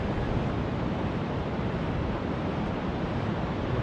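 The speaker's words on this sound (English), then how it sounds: "Just yet another beautiful Oregon beach" Surf on an Oregon beach at the south end of Washburn Park, a dense, continuous roar of waves mixed with wind buffeting the microphone, loud and unbroken.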